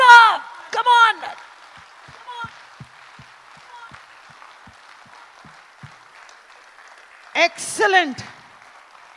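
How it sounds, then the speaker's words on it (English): A live-stream event audience claps hands together, a sustained even patter of many hands between a man's loud enthusiastic speech at the start and end. "Are you ready to release that superpower of clapping?"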